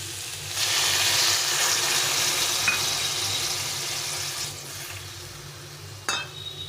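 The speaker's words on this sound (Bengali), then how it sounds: "দিয়ে আবার একটু কষিয়ে নিতে হবে। একদম কম মশলাতে এটা খেতেও খুব ভালো লাগে। একটু কষিয়ে নিই। কষানো হয়ে গেছে, এখন এই মশলা বাটি দিয়ে একটু জল দিয়ে দেবো।" Water poured onto frying spices for a bottle gourd shukto sizzles loudly and steadily in the pan, the hiss slowly settling, with a brief clink of utensils near the end and no talking.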